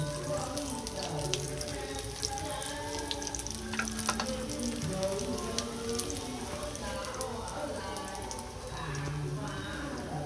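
Vegetarian chicken wings, first braised in broth, fry in hot oil to a light golden colour, giving a steady, close, dense sizzle and crackle that runs the whole time, with a voice speaking faintly underneath.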